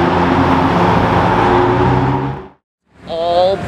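A Ferrari 488 in triple-layer yellow with a stripe drives past, a loud, close engine rush that fades away, followed after a brief silence by another nearby engine note and a voice.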